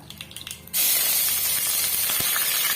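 Mustard seeds splutter in hot oil, starting with scattered soft pops before a sudden loud, steady sizzling hiss with crackles takes over.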